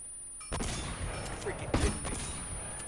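Bursts of gunfire crack in a firefight in Uncharted: Drake's Fortune, several sharp shots at a moderate distance over steady background ambience.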